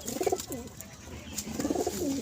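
Loft pigeons coo nearby in two soft, rolling bursts separated by a quieter pause, over a low background hum.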